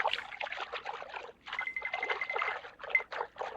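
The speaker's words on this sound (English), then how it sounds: "Sounds like something splashing in the water." Something splashing in water, a close run of irregular wet sloshes and trickles in two bursts separated by a short pause, fairly quiet and with no voices over it.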